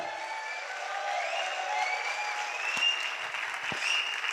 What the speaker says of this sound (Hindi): एक बार सर के लिए प्यारी से दमदार हल्ले वाली क्लैपिंग जरूर होनी चाहिए, जोरदार